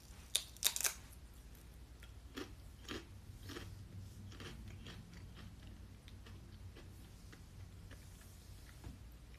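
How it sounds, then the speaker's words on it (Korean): Crunchy snack being eaten close up, with several sharp crisp bites in the first second, then softer intermittent crunching and rustling at low level, with no talking. "과자 먹는 소리예요? 과자 먹는 소리."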